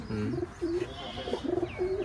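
Old Giribaz pigeons, over four years of age, coo in low, throaty, repeated phrases, fairly close and steady, with a faint higher bird call near the end.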